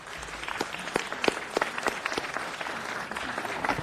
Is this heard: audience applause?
yes